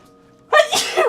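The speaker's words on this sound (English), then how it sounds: "I'm gonna sneeze." A single sharp human sneeze, close and loud, with a quick intake and burst followed by a short tail, alone without talk.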